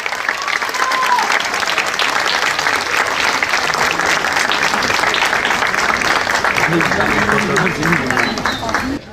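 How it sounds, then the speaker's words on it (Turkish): Loud sustained applause from a festival crowd honouring guest performers at a theatre festival opening in Alanya, dense clapping for about nine seconds with voices mixed in, ending abruptly. "değerli sanatçılarımıza kocaman bir alkış lütfen"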